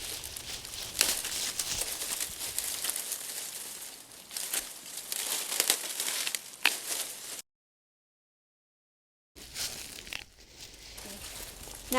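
Overwintered herb stems being cut back with a larger garden tool, heard as close, repeated snipping and crunchy crackling, then a sudden silent gap before more rustling cuts resume.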